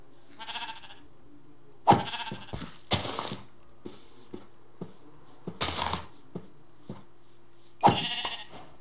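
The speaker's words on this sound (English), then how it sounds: "Okay, I'm gonna kill a black sheep." Sheep bleating in Minecraft, several short, separate bleats coming at irregular intervals between soft clicks and footsteps in a quiet game scene.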